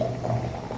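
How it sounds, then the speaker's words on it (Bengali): Water heated for a child's bath bubbles at a boil, a short, steady, close, gurgling churn at moderate volume with no voices. "মেয়ের গোসলের জন্য পানি গরম করে রাখতেছি"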